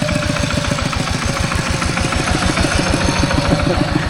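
A tractor engine idles nearby, steady and chugging, its low, regular pulses continuing evenly throughout with a rough mechanical rattle over the top.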